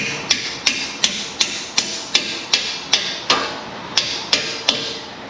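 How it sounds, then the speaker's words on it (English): A hammer taps a part onto a Toyota Tundra 5.7 4x2 strut in a steady series of about a dozen sharp metallic strikes, evenly spaced and close, with no talk. "Hammer time."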